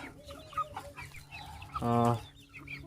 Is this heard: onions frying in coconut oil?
no